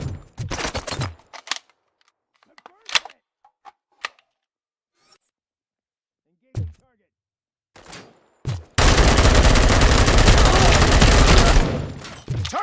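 Gunfire in the RoboCop: Rogue City video game: scattered sharp cracks and short bursts broken by gaps, then a loud sustained volley of rapid fire near the end.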